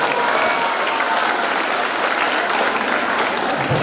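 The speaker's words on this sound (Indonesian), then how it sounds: "Tepuk tangan." A large crowd at a milad anniversary reception claps continuously, a loud, even wash of applause filling the whole moment without pause.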